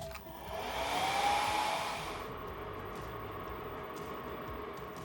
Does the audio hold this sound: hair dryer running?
yes